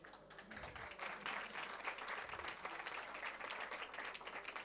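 Faint audience clapping at a sarangi music show, a soft continuous patter of many hands heard from a distance, low in level.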